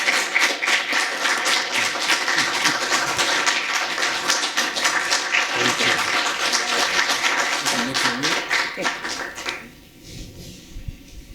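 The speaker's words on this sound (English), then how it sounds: "Can we give a round of applause to our speakers" A seated audience at a community television talk show applauds the speakers, steady dense clapping that carries for about nine seconds and then fades to a few scattered claps at the end.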